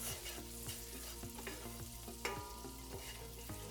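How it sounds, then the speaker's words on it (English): Chopped garlic sautéing in butter in a pan, a steady close sizzle with a rhythmic train of scraping stirs and one sharp clack partway through. "we're going to do a quick saute with some chopped garlic right in"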